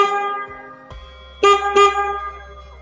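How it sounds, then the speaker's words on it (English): A Denali aftermarket horn fitted to a Suzuki V-Strom 650 XT motorcycle gives two loud, sharp blasts in quick succession, bright and close, after a short mechanical click and idle hum. "I'm not a person who will keep on honking it, but when you need it, you should have it."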